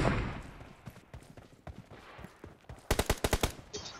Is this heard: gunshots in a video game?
yes